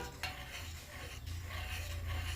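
A tomato cream mixture is stirred continuously in a pan over a low flame, giving a soft, steady scraping and faint sizzle, quiet and close with no talking.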